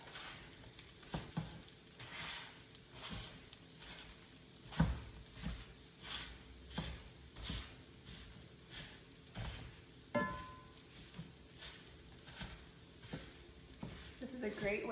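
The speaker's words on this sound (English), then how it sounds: "Now we are going to break our sausages into crumbles. I just use the mix and chop." Sausages sizzling in a pan while a mix-and-chop tool breaks them into crumbles, quiet frying under a repeated rhythm of scraping, pressing strokes and occasional clacks against the pan.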